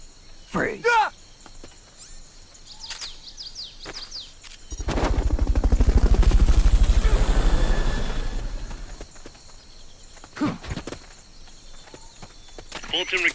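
Fulton recovery helicopter in the video game Metal Gear Solid Peace Walker: a loud, noisy whooshing rush swells up and fades over about four seconds, set among sparse, sharp game effects, with no talking.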